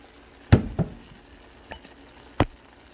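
A spoon stirs microwaved beans and rice with hot sauce in a bowl, making a few distinct scraping knocks and a later sharp clack against the dish, close and otherwise quiet.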